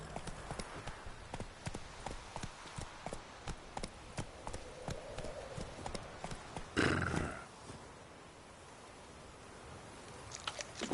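Clip-clop of the horse Roach's hooves in a PS4 video game, a steady trotting beat up close, then a sudden burst of louder noise before fading to quiet.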